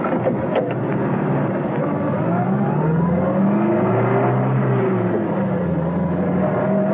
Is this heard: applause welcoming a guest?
no